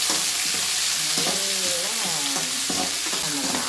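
Pirandai (adamant creeper) sautéed in a pan: a loud, constant hiss of frying fills the air, with soft rhythmic stirring scrapes underneath, close and uninterrupted by speech.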